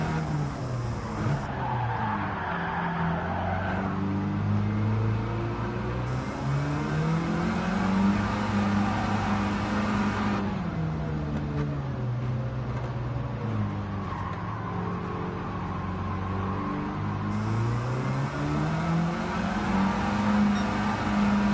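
A Mini Cooper driven in Gran Turismo 7, its engine revving up and down through gear changes in a loud continuous drone, with long tire squeals and skids over the top, no voices.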